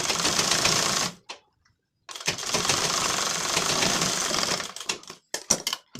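Sewing machine stitching a blouse seam, rapid mechanical chatter in two bursts separated by a short pause, then brief stop-start taps at the end, close and alone.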